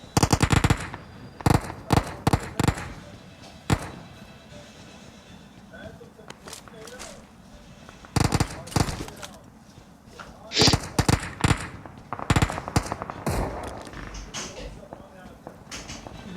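Automatic gunfire and single shots crack in bursts during a PUBG match, loud and irregular, with quieter gaps and mechanical clicks between volleys.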